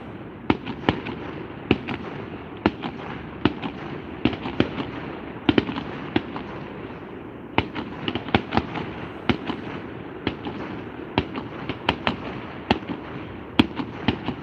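Canada Day fireworks in Ontario burst in a long irregular series of sharp cracks and booms, some close together and some spaced apart, fairly loud over a steady background rumble.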